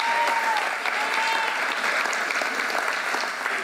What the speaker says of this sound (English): Let's give them a round of applause for doing that.